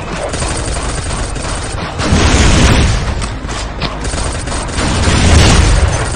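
Rocket launcher fire and explosions from the Heavy Offensive Rocket System in the shooter game Pixel Gun 3D, a dense barrage of bangs with two heavier booming bursts rising out of steady gunfire.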